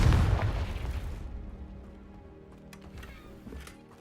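Confringo spell blast in the video game Hogwarts Legacy, a heavy, booming explosion at the start that quickly decays into a rumbling tail with faint crackles and debris.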